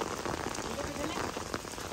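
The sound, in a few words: heavy rain falling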